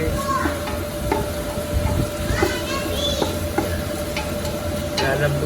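Pork pieces fry in a pan for a Filipino ginisang gulay, a steady sizzle with scattered clinks and stirring scrapes, while a person talks over the cooking.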